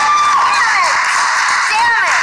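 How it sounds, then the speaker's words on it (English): An audience at a movie trivia game show bursts into applause and cheering, a dense continuous wash of claps and whoops that stays loud for the whole short stretch. "And the crowd leaps into applause."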